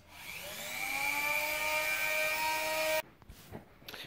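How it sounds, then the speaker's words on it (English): A Dremel rotary tool fitted with a wire brush attachment scrubs rust off screws with a steady, high-pitched whine and buzzing harmonics for about three seconds, then cuts out abruptly, leaving quiet clatter and faint handling noise. "I'll be using a Dremel tool with the brush attachment to remove all the rust from the screws"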